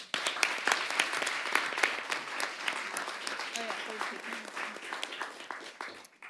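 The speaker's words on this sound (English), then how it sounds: "Let's give them a round of applause." Audience at a high school debate final breaks into sustained applause for the debaters, steady dense clapping from a room full of people that fades slightly toward the end, with a voice briefly audible underneath.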